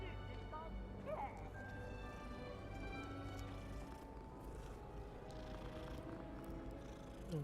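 Cat purring in the video game Hogwarts Legacy, a soft steady rumble under background game sounds and music, heard close and fairly quiet.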